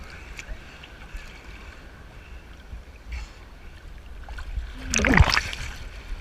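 A boat rides up and over a big ocean wave near the beach, with a loud splash and water rush toward the end, after steady wind and engine-like rumble, and people talk faintly in the background.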